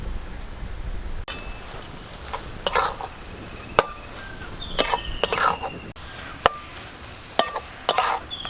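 A spoon stirs bottle gourd curry with roasted spice powder in a pan, making repeated scraping strokes and sharp clinks against the pan over a soft background hiss, fairly close and with no talking.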